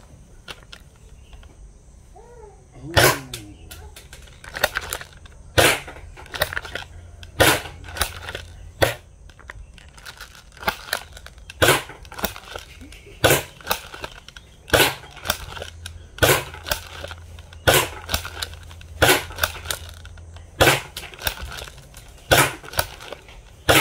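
Upgraded M96 DCOBRA airsoft gun fired in test shots, a long series of sharp snapping cracks at uneven intervals, each loud and close against a quiet outdoor background.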